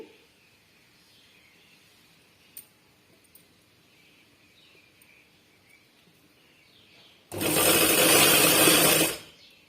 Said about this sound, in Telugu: ఇలా అడ్జస్ట్ చేసుకుంటూ చక్కగా ఒకే లెవెల్లో వచ్చేటట్లు కుట్టు వేసుకోవాలండి